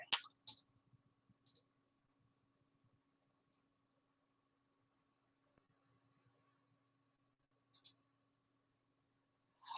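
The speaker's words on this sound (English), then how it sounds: "so I'm clicking the File Explorer" Computer mouse clicking while navigating File Explorer: a few quiet, crisp clicks in pairs spread across near-silence, with long gaps between them.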